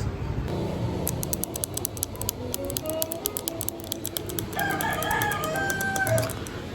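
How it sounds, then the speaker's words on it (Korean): Chickens and roosters in Bali crowing repeatedly at close range, with bursts of clucking and other fowl calls over a dull background rumble, and no talking. "닭이 왜 이렇게 많이 울어?"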